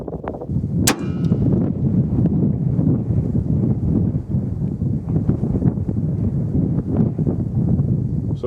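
Single sharp metallic clang of a 224 Valkyrie rifle shot striking a long-range steel target, ringing briefly over constant loud wind buffeting the microphone.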